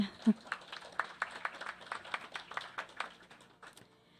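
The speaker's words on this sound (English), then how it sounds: "Yes, you can give him another round of applause." Attendees at a school district awards ceremony give a recipient another round of applause, scattered individual claps in a small room fading out after about three and a half seconds, with a brief voice at the start.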